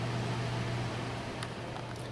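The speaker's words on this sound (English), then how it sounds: "sorry about the noise, but I got to run the cooler today" Constant whirring drone of an evaporative cooler running close by, a steady fan-like hum with a low tone and faint clicks.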